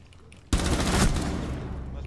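Gunfire in the game Rainbow Six Siege, an abrupt loud blast hitting after a quiet moment and ringing into a dense, sustained roar of shots or echo for well over a second.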